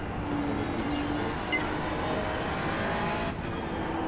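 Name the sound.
race car engine accelerating in a racing video game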